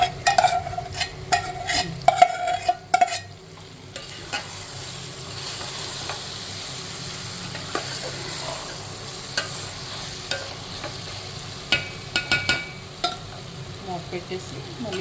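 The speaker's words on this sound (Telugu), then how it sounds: "ఉల్లిపాయలు ఫ్రై అయిన తర్వాత చికెన్ వేసేసుకున్నాం. మ్యాగ్నేట్ చేసుకున్న చికెన్ వేసేసుకున్నాం" Marinated chicken frying with already-browned onions for dum biryani gives a continuous sizzle, broken by clattering ladle strokes that are busier at the start and near the end.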